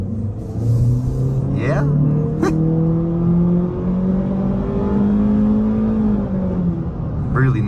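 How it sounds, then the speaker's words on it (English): A 2024 Honda Civic Sport accelerates at full throttle, heard from inside the cabin as a steady engine drone that climbs in pitch through the gears, with a brief dip at a shift and a short spoken remark. "let's turn around and see exactly what full throttle feels like"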